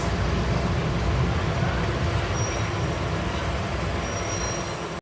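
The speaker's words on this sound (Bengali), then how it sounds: "আর পাশে একটি ট্রেন প্রবেশ করছে, এটা হচ্ছে জয়দেবপুর থেকে ছেড়ে আসা ঢাকাগামী তুরাগ এক্সপ্রেস" The Dhaka-bound Turag Express rolls into Dhaka Cantonment station at night on the next track, a loud continuous rumble of wheels and cars with a faint high squeal on top.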